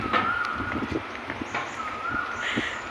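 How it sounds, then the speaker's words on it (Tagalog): Birds chirp and call outdoors on a city walk in Singapore, a steady scatter of short tweets and coos over background street noise. "Ang ingay-ingay pa ng ibon."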